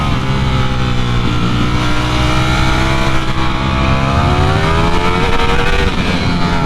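Heard while riding, a Ducati Streetfighter V4 engine roars loudly and steadily, rising and falling in pitch, with heavy rumble and wind blended in and no voices.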